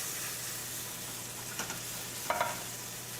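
Steaming milk whisked into a hot flour roux in a pan for a zucchini parmesan sauce, a soft continuous sizzle and stir with a few brief scraping clinks near the end, close and without talk.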